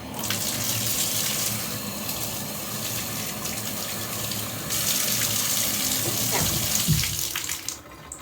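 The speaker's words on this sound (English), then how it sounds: "I'm going to go ahead and just quickly rinse off the hair conditioner" Tap water running steadily over hair as conditioner is rinsed out, a close, continuous gushing splash that swells midway and then cuts off near the end, with no talking.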